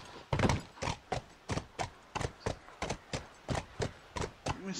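A horse's hooves clip-clop at an even trotting rhythm in The Last of Us, each step a crisp, close, moderately quiet knock repeated steadily for several seconds.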